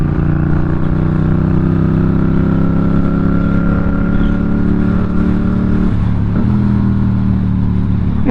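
A Yamaha MT07 motorcycle climbing Hartside Pass in winter conditions, its engine a loud, close, steady drone with layered harmonics, dipping briefly near the end as the revs shift.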